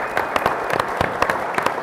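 Seminar audience applauding indoors, a steady wash of clapping from many hands with sharper individual claps standing out, fairly close and continuous through the short stretch with no talk.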